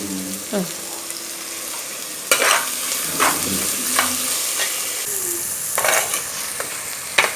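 Salted onions fry in a pan for a quick idiyirachi dish, a steady loud sizzle broken by repeated spoon scrapes and stirring knocks, close up.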